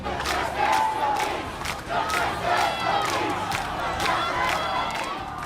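Angry protest crowd in the streets of Richmond over the death of George Floyd, a loud dense mass of chanting and shouting voices surging in waves throughout.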